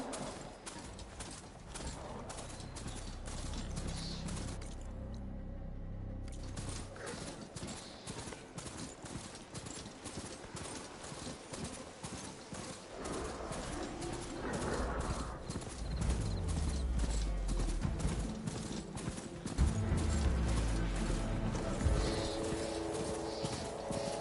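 Horse hooves clip-clop steadily through a video game world, a rhythmic mid-level trotting patter with occasional snorts, running continuously under faint ambient game sounds.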